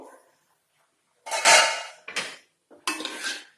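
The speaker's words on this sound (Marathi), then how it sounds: "आता मी झाकण काढते" A metal lid is lifted off a pot of steamed sabudana khichdi: clattering metallic scrapes and clinks in three bursts separated by short silences, close by.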